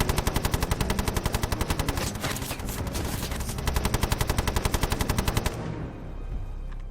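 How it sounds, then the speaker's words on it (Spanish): A Bren light machine gun fires a long, rapid stream as a soldier empties a magazine in a World War II battle, loud, close and relentless, then cutting off abruptly. "Cuando uno de los alemanes intenta levantarse, Kane coloca otro cargador y lo vacía."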